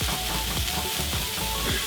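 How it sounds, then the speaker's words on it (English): Chicken pieces sizzle and brown in very hot oil in a pan, a steady close hiss with crackle throughout. "It should sizzle when it hits this."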